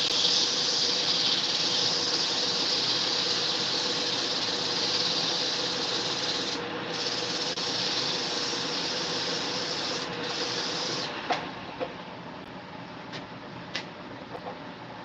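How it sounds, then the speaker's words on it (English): A sander works on a river birch bowl with the bark left on and cracks in the wood, giving a continuous close, loud abrasive hiss that shifts slightly and eases near the end. "you might have to spend a little bit more time sanding because of the cracks in there"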